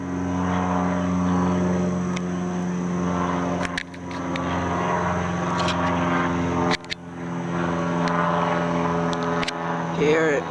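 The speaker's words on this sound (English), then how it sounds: "Here is an airplane from Oxford Airport, and it's going back to Oxford." A propeller airplane from Oxford Airport drones steadily overhead, loud and sustained through the whole stretch with a steady low hum and brief dips, no talk heard.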